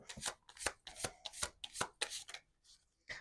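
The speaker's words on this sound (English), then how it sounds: "when I was shuffling." Rapid riffle-shuffling of tarot cards, a series of crisp ruffling bursts in quick succession, close and fairly soft, with a brief pause before a final shuffle.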